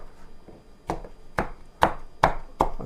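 A knife chops onions on a cutting board, five or six sharp, evenly spaced thuds close to the listener, with faint background between strokes.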